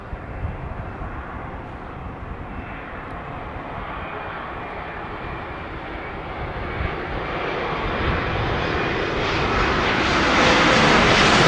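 Airliner, such as an A380, landing at Heathrow Airport, a broad steady engine roar that swells louder toward the end as the aircraft nears, with no talk.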